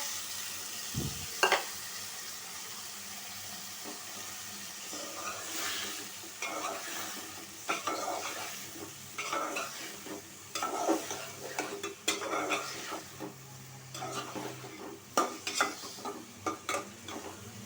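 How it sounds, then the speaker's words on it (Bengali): Potato and snake gourd stirred and frying in a spiced masala, a steady sizzle broken by repeated scraping stirs of a spoon in the pan, close and moderately loud with no talking. "মশলাটা কষানো হয়ে গেছে আমি চিচিঙ্গা আর আলুটা দিয়ে দিব"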